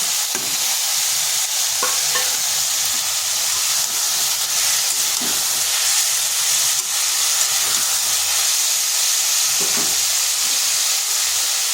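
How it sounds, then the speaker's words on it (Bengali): Ridge gourd with fried potatoes sizzles and fries steadily in a pan, a continuous loud hiss with occasional soft scrapes of stirring. "দেখুন ঝিঙ্গেটা কতটা নরম হয়ে গেছে এরপর এখানে দিয়ে দিচ্ছি যে আলুগুলো ভেজে রেখেছি"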